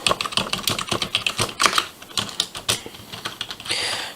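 Rapid, uneven clatter of keys being typed on a wireless computer keyboard with large keys, close and crisp, with a brief burst of faster strokes near the end and no talking.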